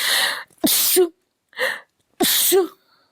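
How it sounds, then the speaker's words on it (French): Two sharp sneezes, each preceded by a quick inhaling breath, close and fairly loud, with silence between them. "je vais éternuer"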